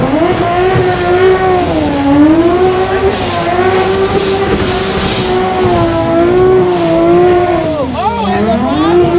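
A 700-horsepower car at a motorsports lot revs hard and accelerates in a sustained, loud engine roar that rises and wavers, with a brief dip and tire noise near the end as it launches toward a bowling setup.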